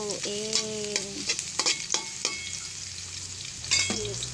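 Chicken sizzles in a pan for ginataang manok with papaya while a utensil stirs it, scraping and clinking against the metal in short irregular strokes over a steady soft frying hiss.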